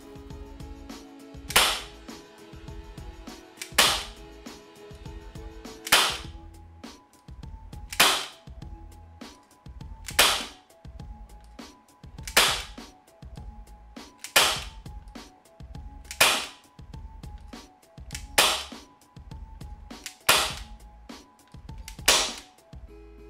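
A Gletcher TT-P air pistol, a Tokarev replica, fires about ten sharp, loud cracks at a steady, slow rhythm, each shot followed by a brief mechanical clatter, with no talking.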